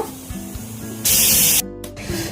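A pressure cooker of chicken gravy lets out a short, loud burst of steam lasting about half a second, set against a quieter kitchen background.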